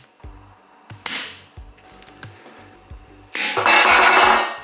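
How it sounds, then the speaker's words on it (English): Air-powered three-barrel Lego shotgun with Lego compressor tanks fires a short burst of air, followed by faint mechanical clicks and then a longer, loud hissing rush of released air close by. "just the burst of air alone seems pretty decent"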